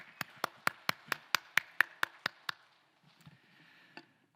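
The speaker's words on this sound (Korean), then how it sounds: "박수 올려드리겠습니다" A congregation claps at a Sunday worship service in a Korean church, about eleven sharp, evenly spaced claps in a quick rhythm, then a few faint scattered sounds before a last soft tap.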